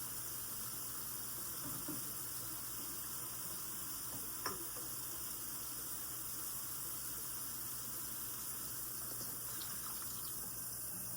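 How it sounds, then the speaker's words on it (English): Water pours into a cooking pot of seasoned rice and stewed chicken as a continuous faint splashing and gushing with a soft sizzle, heard alone with no voices. "I'm going to add some water and I'm going to add it to the pot"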